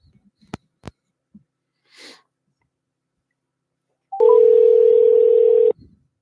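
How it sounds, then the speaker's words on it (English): A phone call being placed: a few soft clicks and a short hiss, then a loud, steady dial or ringing tone that holds for about a second and a half before cutting off. "I'm going to call from another number real quick"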